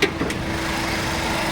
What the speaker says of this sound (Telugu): ఇంకో మీకు ఇంజన్ సౌండ్ కూడా చూడొచ్చు